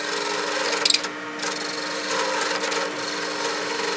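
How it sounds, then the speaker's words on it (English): Woodturning tool scraping an ebony pen blank spinning on a lathe, a steady close rasping hiss under a constant motor hum, with a brief louder scratch near the start. "I'm just going to keep moving the tool across the piece of wood until I get that shape that I'm happy with"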